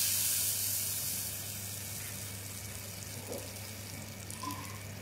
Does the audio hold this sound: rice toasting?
yes